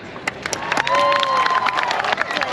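A crowd at the Jubilee Stage of Expo 2020 Dubai breaks into sustained cheering and applause with whistles, a dense, lively roar of many voices and hands filling the space.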